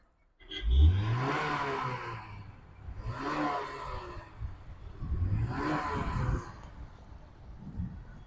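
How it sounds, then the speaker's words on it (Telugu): A 2010–2011 Honda City S petrol car's engine cranks and catches, then revs up and down in three strong rising surges, close and loud with no talking. "ఇంజిన్ అయితే స్టార్ట్ అవుతుంది."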